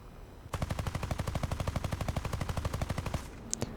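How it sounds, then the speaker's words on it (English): Canberra B (I) Mk 6 cannons firing in the War Thunder game, a steady rapid burst of about thirty evenly spaced loud shots lasting nearly three seconds, then a brief pause and a faint clatter. "I shoot a bit too high considering he is pitching up towards me"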